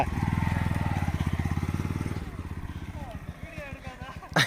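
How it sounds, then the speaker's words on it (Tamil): A motorcycle on a sandy village track revs in a steady, throbbing burst, then its engine note turns choppy and uneven as the wheel bogs down in loose sand, ending with a brief louder rev. "ஸ்கிட் வண்டி மாட்டிக்குது மண்ணில்"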